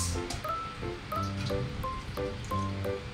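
Running water splashing over hands being wet at a tap before washing, a continuous close rushing spatter with faint tonal ringing under it.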